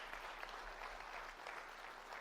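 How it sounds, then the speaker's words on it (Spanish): A church congregation applauding during a Spanish-language sermon, steady continuous clapping from many hands, fairly faint and distant, with no voices over it. "Dale un aplauso al Señor si lo creyó."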